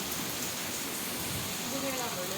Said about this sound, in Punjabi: ਇੱਧਰ ਬਹੁਤ ਜ਼ਿਆਦਾ بارش ਹੈ ਜੀ